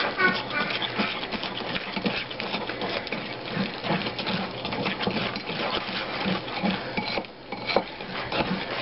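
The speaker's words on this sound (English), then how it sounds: "just whisk it around." Batter for a peach cobbler whisked in a bowl, a continuous close scraping and sloshing rattle that runs steadily with a brief dip near the end.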